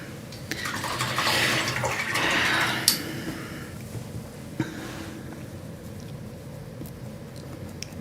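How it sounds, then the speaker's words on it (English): Paintbrush swished and rinsed in a cup of water during an acrylic painting session, a close watery sloshing for a few seconds followed by a couple of light taps, then quieter room ambience. "Use my water on my brush here just to kind of clean off my chalk marks"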